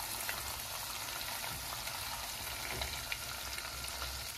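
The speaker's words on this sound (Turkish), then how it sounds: "Salçalarımız biraz kavrulsun" Tomato paste roasts in a pan with a faint, steady sizzle and occasional soft pops, low in level and continuous throughout.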